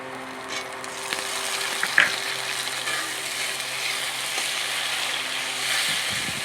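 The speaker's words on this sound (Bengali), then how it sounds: "ভালো করে আরেকটু ভেজে নেব" Tomatoes and green chillies frying with softened onion in a pan for a Bengali potol chingri (pointed gourd and prawn) curry, giving a steady close sizzle with a few scraping stirs throughout.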